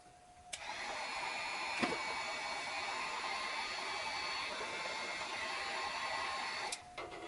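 Heat tool warming a Ghostbusters Spirit Pack prop to soften its glue for a mod: a steady mid-pitched blowing whir that switches on, runs evenly for several seconds and cuts off, with a few knocks from handling.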